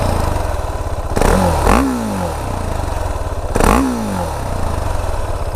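A stock-exhaust 2018 KTM Duke 690 motorcycle engine idles with a grunty pulse, then is revved twice in short, sharp blips that rise and fall, heard close and loud with no talk.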